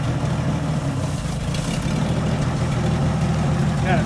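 A 1962 Ford F-350 farm truck engine idles steadily, a low continuous rumble close by that holds even throughout, with faint voices or background noise mixed in.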